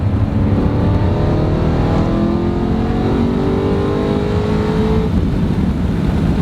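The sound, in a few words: BMW E92 M3 exhaust with test pipes, downshift to third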